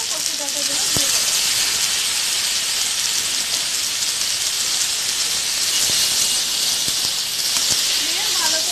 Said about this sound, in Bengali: এবার এর মধ্যে আমি এই সেদ্ধ করে রাখা কচু ডাঁটাগুলো দিয়ে দেবো